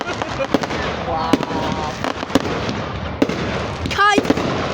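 Outdoor fireworks go off in sharp, spaced bangs with crackling and a rising whistle, heard from indoors at a house, with people talking and exclaiming throughout.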